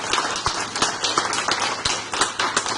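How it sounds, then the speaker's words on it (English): An audience at the end of a presentation gives a short round of applause: scattered, fairly light hand claps at an irregular rhythm. "Let's give Mark a big round of applause."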